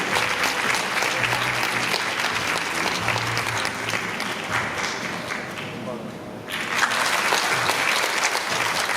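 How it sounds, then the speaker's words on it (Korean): A crowd applauds steadily and warmly at a 2022 choral festival ceremony in Pocheon, welcoming a deputy mayor to the stage. Dense clapping fills the hall throughout with a brief dip before it swells again. "큰 박수로 맞아주시기 바랍니다."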